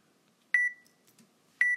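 A home workout timer gives two sharp, clean electronic beeps about a second apart, each short and loud in an otherwise quiet room.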